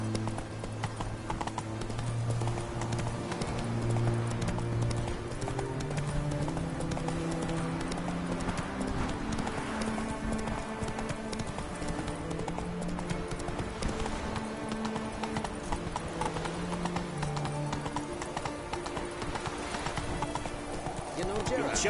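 Roach, Geralt's horse in the video game The Witcher 3, trots with a steady, rhythmic clip-clop of hooves under game music, and a voice is briefly heard.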